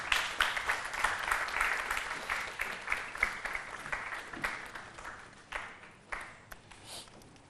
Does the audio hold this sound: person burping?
no